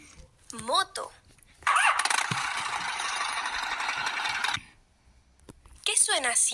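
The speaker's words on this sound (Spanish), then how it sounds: "Moto." A motorcycle engine revs in a loud, steady burst for about three seconds, then cuts off, with short bursts of other sounds before and after.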